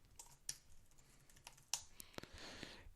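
Quiet typing on a computer keyboard at a desk, a few scattered keystrokes and then a quick burst of clicks near the end, heard close with no voice.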